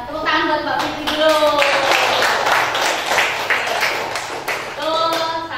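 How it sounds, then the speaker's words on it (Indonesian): Listeners in a classroom lesson on consumer behaviour clap for a student, a brisk run of close hand claps mixed with voices chattering and calling out over the clapping. "Ya, tepuk tangan buat Mbak Fitri dulu."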